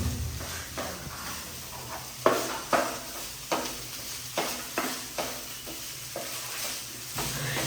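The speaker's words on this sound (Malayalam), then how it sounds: "ഇതെല്ലാം ഹൈ ഫ്ലെയിമിലാണ് റൈസ് ഇട്ട് കൊടുക്കുക" Rice stir-fried in a pan over a high flame for a vegetable fried rice, with pepper powder added, gives a steady sizzle broken by about a dozen rhythmic scraping stirs. The sound is close and no one speaks.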